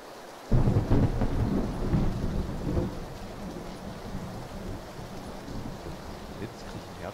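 Rain and thunder in the PlayerUnknown's Battlegrounds game world: a loud thunder rumble breaks in and rolls off over a couple of seconds, then steady rain hisses on, fairly close and continuous.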